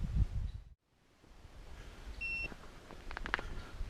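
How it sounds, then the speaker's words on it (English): Short electronic beep from a handheld GPS unit on a geocaching hike outdoors, a brief tone heard over breeze and rustling, with footsteps and movement around it. "There's the beep."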